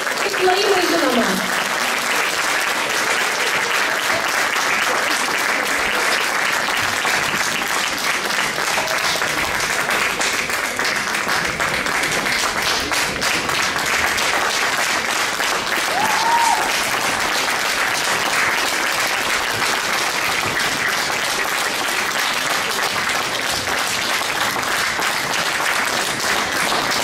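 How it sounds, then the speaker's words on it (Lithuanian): A hall full of people claps continuously at a school awards ceremony for student and class of the year in Klaipėda, steady, dense applause holding loud for nearly half a minute. "Tik plojimai žinoma."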